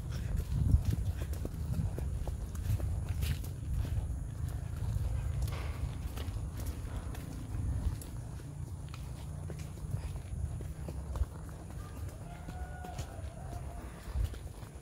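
A horse named Cookie walks along during a horseback ride, its hooves clip-clopping in a steady plodding rhythm over a low rumbling background, with faint voices now and then.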